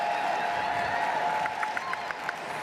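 Crowd at the Westminster Kennel Club Dog Show applauding and cheering in a large arena, a steady dense roar with scattered sharper claps and whoops toward the end, no talk over it.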